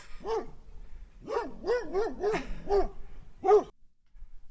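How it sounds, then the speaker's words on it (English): A dog barks indoors, a close series of about six sharp, evenly spaced barks in quick succession, then stops. "Sorry for anyone that doesn't like dogs."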